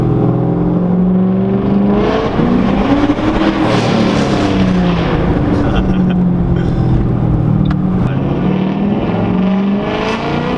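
A 2007 turbocharged Mustang GT accelerates hard under boost, its loud engine note rising and falling through gear pulls with a steady whirring turbo over a constant roar.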